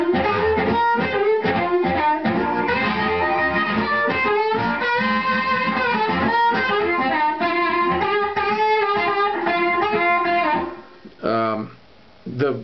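Amplified harmonica played through a BluexLab harp microphone with volume control, giving a gritty, distorted blues tone; a continuous run of loud chords and bent notes that cuts out briefly near the end.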